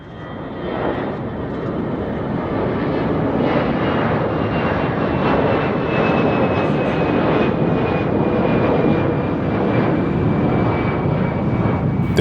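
Airbus A350 jet aircraft roaring steadily during takeoff, a loud, continuous broadband engine rush with a faint whine holding throughout and no voices.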